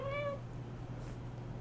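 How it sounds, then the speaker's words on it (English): A cat gives a single short, clear meow close by indoors, followed by quiet room tone with a low hum. "The kitty has come out of her box to say hello."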